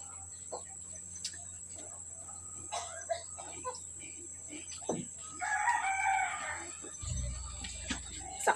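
A rooster crows partway through, amid scattered outdoor noises, faint clucks and a low rumble near the end.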